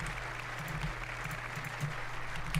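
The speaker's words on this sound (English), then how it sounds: "I wasn't sure if anybody even on this side was going to applaud for that." Applause fills the chamber during a State of the Union address, a steady wash of many hands clapping at moderate volume from some distance, with no speech over it.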